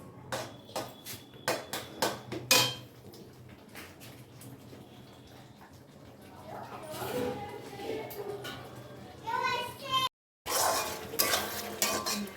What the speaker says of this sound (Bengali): মশলাটা কষতে থাকছি এখনো